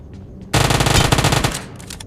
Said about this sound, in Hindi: तो अभी तो और फायरिंग आ रही थी